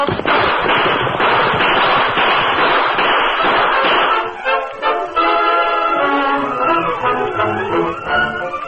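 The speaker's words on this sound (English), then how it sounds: "We'll give them another volley from here. Keep shooting as you ride, Tonto." Gunfire volley sound effect in an old western radio drama: a dense, loud burst of overlapping shots for about four seconds, giving way to a quieter, tonal passage.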